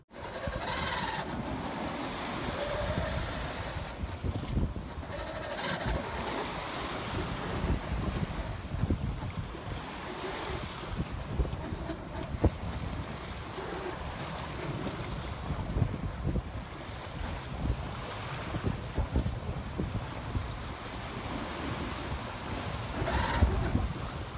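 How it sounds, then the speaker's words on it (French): Sailboat under pure sail on the approach to New York, with steady broadband wind rushing across the microphone and waves washing against the hull, continuous and fairly loud throughout with no talking. "on s'est fait une petite session de voile pure avec en arrière-plan l'arrivée à New York"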